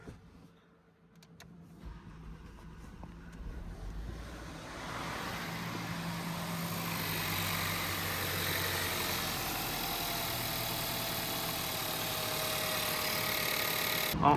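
A car with an EA888 engine that has a slight fuel leak starts up and settles into a steady idle, the engine noise building over the first seconds and then holding a constant hum, close and without speech.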